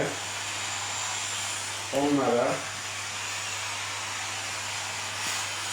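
A hot steam cleaner sterilizes mattresses, giving a steady loud hissing rush that runs the whole time, with someone speaking briefly over it.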